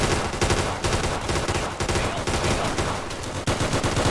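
Machine gun fire in Easy Red 2, a World War II beach-landing defence: rapid, dense automatic bursts that go on almost without a break, loud and continuous, with no talk.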